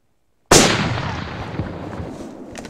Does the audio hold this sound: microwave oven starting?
no